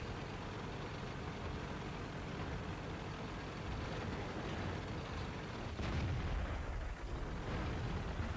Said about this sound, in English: That Panzer 5 M10 starts to shoot at me